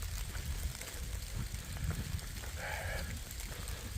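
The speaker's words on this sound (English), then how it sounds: "And rain is picking up a little bit." Steady rain falls on a forest trail during a day hike through a state recreation area, a dense, constant hiss of drops with no clear individual hits. Nobody talks.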